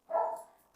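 A single short dog bark on a farm where dogs meet newly arrived sheep, close and fairly loud, fading quickly with no talk.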